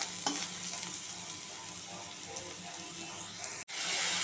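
Kochur loti, taro stolons, fry in a pan with onion and garlic, a steady close sizzle with stirring throughout and one abrupt brief dropout near the end.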